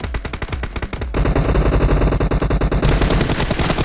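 Rapid automatic gunfire from the PUBG video game played on a Realme 8 phone: a fast, even stream of shots that grows louder and denser after the first second and keeps going without a break.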